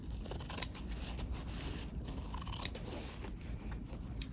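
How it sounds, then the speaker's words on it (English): Long scissors slice through canvas in a quiet, steady cutting sound with a couple of sharper snips, close by and faint, with no voices. "the beauty of using a long scissor is you can get a long, smooth cut"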